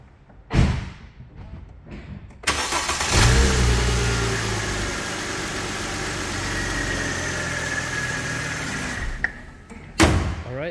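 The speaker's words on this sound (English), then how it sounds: "Start it up for you real quick." A 2007 Mercedes CLK350 with a V6 starts up and revs, a steady loud engine roar held for several seconds after brief clunks, then cutting off near the end.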